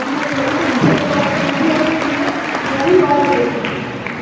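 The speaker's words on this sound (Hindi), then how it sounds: "एक बार जोरदार ताली होनी चाहिए भावना" A college seminar audience breaks into loud, sustained applause, a dense wash of clapping with voices and cheers mixed in.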